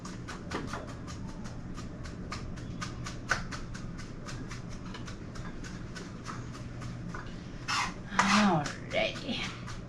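A knife chops a shallot on a cutting board in quick, regular taps, close and moderately loud, with a brief clatter near the end.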